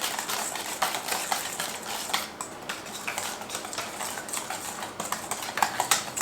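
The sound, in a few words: mixing coleslaw in a bowl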